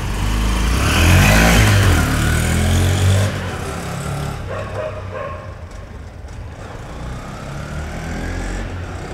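A 2022 Honda CB125F commuter motorcycle rides past, its engine loud and close for a few seconds before fading into the distance, with no talking.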